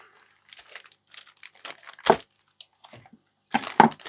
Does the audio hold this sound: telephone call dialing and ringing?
no